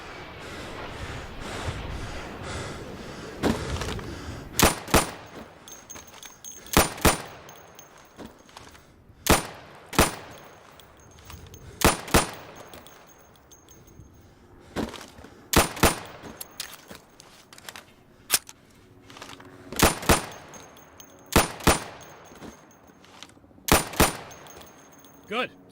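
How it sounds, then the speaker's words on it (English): Sidearm shots crack out one at a time in the Insurgency video game at pop-up targets beyond 20 feet, loud sharp reports spaced a second or two apart over a steady game background. "So you can shoot accurately over 20 feet with your sidearm"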